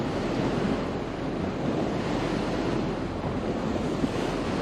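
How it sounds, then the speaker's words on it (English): Waves hit a boat on Lake Michigan between Port Washington and Milwaukee, Wisconsin, making a loud continuous wash of churning water heavily mixed with wind buffeting the microphone. "questionable wave action here"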